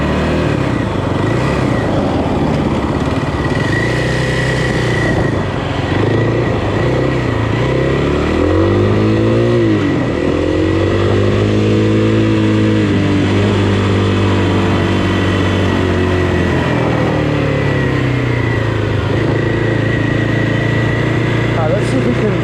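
A 2025 Kawasaki KLX 300R dirt bike riding trails, its engine loud and close, revving up and down in repeated rising and falling sweeps over wind noise, with a voice talking over it.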